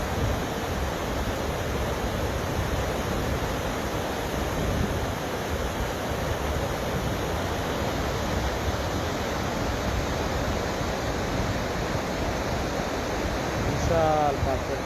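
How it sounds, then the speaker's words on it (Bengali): Water rushing over large rocks and boulders in a clear stream, a loud, continuous broadband roar that stays steady throughout and is heard alone without talk. "পাথর পানির শব্দটা আপনাদের শোনাতে যাচ্ছে।"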